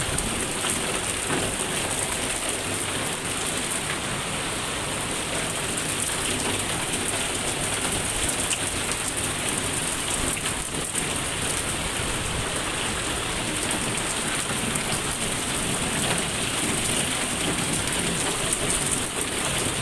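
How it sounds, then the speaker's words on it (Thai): Heavy rain pours steadily beside a house, a dense unbroken roar of drops hitting surfaces that persists for the whole stretch with no voices. "แต่ว่าฝนตกหนักครับ"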